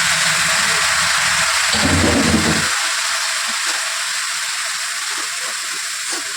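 Lotte (Bombay duck) fish frying in a wok gives a loud, steady, close-up hiss of sizzling oil, with a voice briefly audible at the start.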